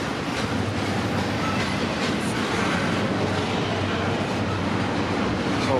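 A train rolls past a trackside spot with a loud, continuous rumble and steady clickety-clack of wheels on rail, close and unbroken throughout.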